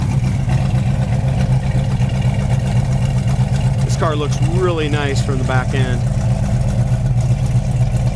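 A 1971 Ford Mustang Mach 1 with a 351 V8 idles steadily and loudly throughout, a deep continuous engine rumble, while someone speaks over it partway through.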